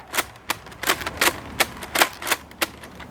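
A Nerf Pyragon blaster shooting LighTake Vortex discs from a stick magazine, about nine sharp snapping shots in quick, slightly uneven succession, close and loud with no voices.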